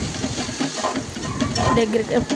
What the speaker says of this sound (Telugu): టమాటా ముక్కలు కూడా వేయించుకొని